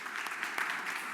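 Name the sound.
audience applause at a wine tasting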